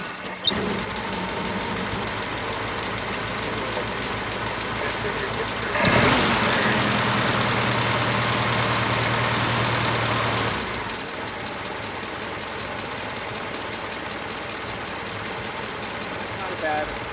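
A 1951 Willys CJ3A Jeep engine idles outdoors at a Jeep show with a steady, slightly knocking rumble, then revs for a few seconds before settling back to idle, close and loud.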